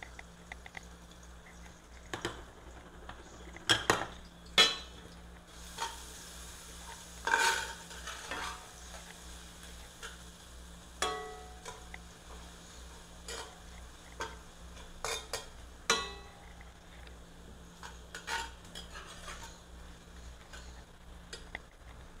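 Ginger slices sautéing in a pan until browned, with a soft continuous sizzle broken by sharp stirring and scraping clicks that come at irregular moments, close by and fairly quiet, with no voices.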